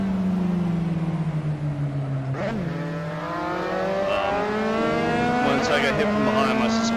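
A Dallara F3 race car in the Assetto Corsa sim racing game whines through its gears, the engine note falling and then climbing again with a brief tire squeal, while someone talks over it.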